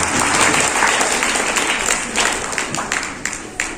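An audience at a speech event by Dr. S. Rajasekar, founder of Kingmakers Properties, breaks into loud, continuous applause, a dense wash of many hands clapping that fades slightly toward the end.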